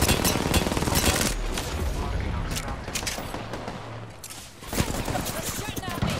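Gunfire in the video game Apex Legends, with rapid bursts of shots running throughout, loud and dense at the start and again near the end.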